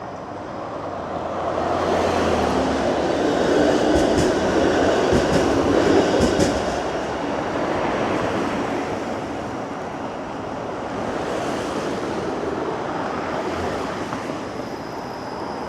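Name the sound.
Toronto streetcar passing through an intersection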